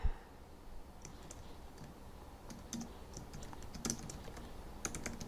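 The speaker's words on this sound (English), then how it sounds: "And let's type" Light, close computer keyboard typing, with scattered key clicks spread unevenly across several seconds and a few slightly louder taps, heard in a quiet room.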